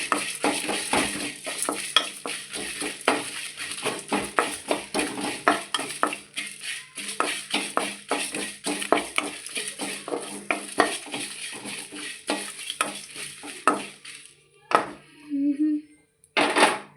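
Coriander seeds, cumin, fennel, cardamom and dried chillies dry roasting in a pan, with a steady run of scraping stirs and clinks of a spoon against metal and a faint sizzle, close and moderately quiet, ending in sparse knocks.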